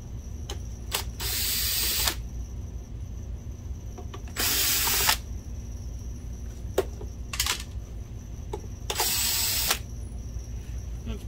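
A power screwdriver whirs in three loud bursts of about a second each, backing screws out of the rear housing of an Optoma HD70 DLP projector, with small clicks and handling noises between bursts.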